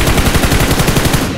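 Rapid automatic gunfire from PUBG Mobile, a loud, close, fast string of evenly spaced shots running through the whole short burst with no voices.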